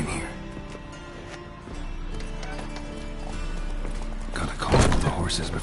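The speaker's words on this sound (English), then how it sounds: "Gotta call up the horses before they wake the guards." Horses whinnying and hooves clopping in The Witcher 3 video game, under voices and a steady game soundscape, with a louder burst of commotion near the end.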